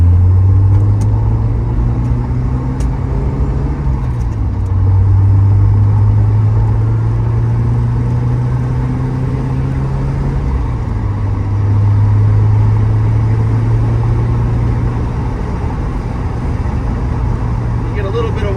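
Steady low drone of a 1990 Porsche 944 S2 Cabriolet five-speed cruising at 75 mph on a highway, with engine hum shifting pitch and broad wind buffeting roaring throughout, loud and continuous.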